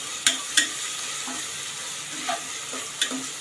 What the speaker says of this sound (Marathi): एक मिनिट हे मी चांगलं परतून घेणार आहे तेलावर